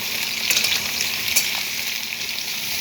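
Many crabs frying in hot oil, a dense continuous sizzle and crackle, close and steady, with a couple of brief louder spits and no voices.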